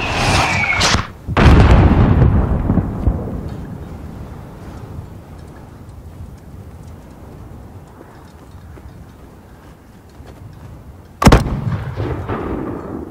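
Mortar blasts and gunfire in Call of Duty: Modern Warfare on the Highway of Death: two heavy booms near the start, then a rumbling decay, and one more sharp blast near the end, without talk.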